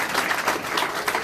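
A church congregation claps together in a brief, steady burst of dense applause from many hands.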